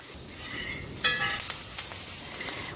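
Garlic, rosemary and thyme sizzle steadily in hot oil as a fork or tongs stir them around, with a few sharper crackles and scrapes close by.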